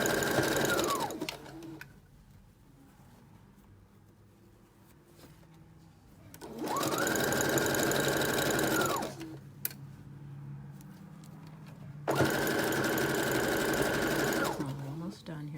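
A sewing machine stitches a plain white T-shirt in three long runs, each a loud steady whir, with quieter pauses between them where a voice speaks.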